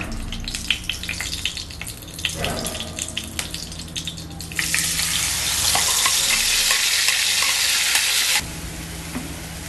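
A spice paste goes into a pan of hot oil for Bengali potol dolma. Stirring and sizzling build to a loud, hissing burst of frying that holds for several seconds and then abruptly drops back to a quieter crackle.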